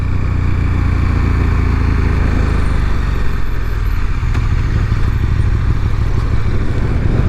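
A 2019 KTM 1290 Super Duke R naked motorcycle rides along with a loud, steady engine drone and heavy rumble, constant throughout with no speech.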